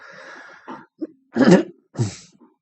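A few harsh coughs and throat-clearing bursts, close and fairly loud, separated by short pauses of silence.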